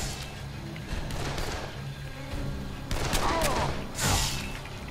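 Gunfire in the Dead Island zombie game during a supermarket fight with bandits, a dense, noisy stretch of shots with louder bursts near the end, mixed with game noise.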